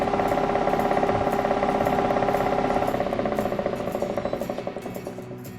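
Wood lathe spinning an off-center spalted alder bowl at 1,000 RPM, a steady hum with a fast rhythmic rattling pulse that slowly fades as it winds down, no voices.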